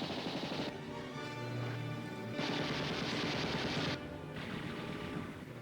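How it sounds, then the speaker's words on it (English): Video game gunfire aimed at the player in a combat game, dense continuous bursts of rapid shots and explosive crackle filling the whole stretch, loud and close, with brief swells in intensity and no talk. "Oh, they're shooting at me."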